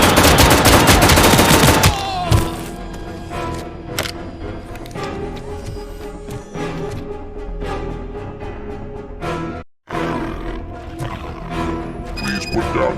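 In the RoboCop: Rogue City video game, the ED-209 robot attacks with heavy gunfire: a loud dense opening burst, then sustained mechanical booms and rattles with a brief sudden dropout, under game sound and voice lines.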